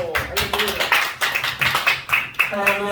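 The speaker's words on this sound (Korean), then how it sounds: "지선혁 여성 총재님 박수로" An audience claps during a UN Participation Day commemorative thanksgiving service and press event, with loud, dense clapping running throughout and a person's voice mixed in.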